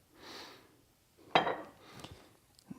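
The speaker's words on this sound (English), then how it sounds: "Stir it up with the whisk." Whisk stirring beer batter in a bowl: a few scraping, clinking strokes against the bowl, quiet and close, with a soft breathy swish before a sharper metallic rattle and small taps.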